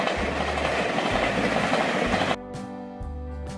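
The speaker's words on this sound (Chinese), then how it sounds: "大家都想捕捉火车穿过的瞬间，留下红花与火车的美丽身影" A train rumbles past near flowering trees in Baihe, Tainan, with loud, dense clattering of wheels on rails that stops abruptly, giving way to quieter, steady tonal noise with a few faint clicks.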